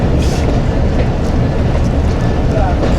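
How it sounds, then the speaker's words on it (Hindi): Khushhal Khan Khatak Express pulling into Attock City Junction railway station, where a loud, continuous rumble and roar fills the platform while a waiting crowd talks underneath. "6:10 पे ट्रेन अप्रोच कर रही है"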